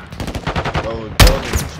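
Gunfire in the video game Modern Warfare 2: a loud burst of shots breaks in sharply near the end, following shouted military radio chatter and a rapid run of rhythmic thuds.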